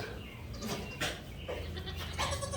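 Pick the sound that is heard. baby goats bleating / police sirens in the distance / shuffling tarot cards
baby goats bleating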